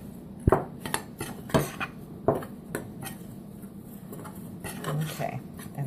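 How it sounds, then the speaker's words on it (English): A utensil knocks and scrapes against a bowl while seasoned onion ring batter is stirred, with several sharp clinks early on, then softer, quieter swishing up close. "we're going to give that a quick stir"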